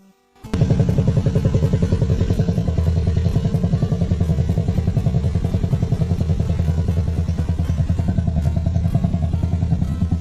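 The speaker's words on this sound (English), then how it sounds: "listen to the engine sound" A CFMOTO 250SR motorcycle engine, rebuilt with a 300cc forged piston conversion, starts and idles loudly nearby, a steady rapid thumping putter that continues without a break.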